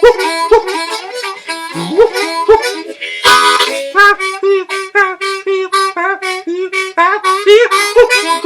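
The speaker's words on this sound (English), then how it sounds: "you won't know what's a harmonica and what's him hooping and hollering" Blues harmonica with bent wailing notes and chugging breaths mixed with the player's own whoops and hollers, loud and close, played solo in a continuous rhythmic run.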